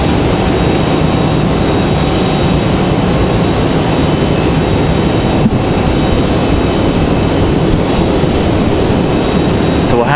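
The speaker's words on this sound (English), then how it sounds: "There goes Copa Airlines there at the top of your screen." A Copa Airlines airliner passes at Raleigh Durham International Airport, a steady, loud broadband jet roar holding for the whole stretch, with a voice talking over it.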